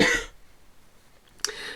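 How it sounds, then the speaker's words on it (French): A single short cough or throat clear from a woman, a brief harsh burst at the start, followed by near silence and a faint second small sound just before the end. "Excusez-moi, je dois tousser."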